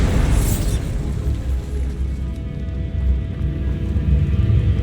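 Bombarda spell explosion in the video game Hogwarts Legacy, a loud, deep boom hitting at the start and then rolling into a long rumbling tail that fades slowly.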